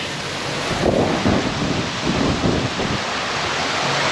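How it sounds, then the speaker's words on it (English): A wet-season storm brings heavy rain and thunder over the Gulf, heard from a fishing boat: a steady, loud downpour hiss with deep rumbling swells rolling through, and no one speaking. "It is absolutely pouring down again. Another massive storm just rolling across."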